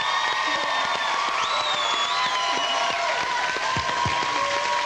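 A studio audience applauding and cheering for a singer on an Idol talent show, with sustained clapping and whoops at a moderate distance.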